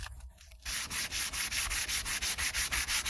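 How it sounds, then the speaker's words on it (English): A guitar finish being sanded with 320 grit sandpaper, close rhythmic back-and-forth strokes that start after a brief pause and repeat evenly and briskly. "And then we sand the surface thoroughly."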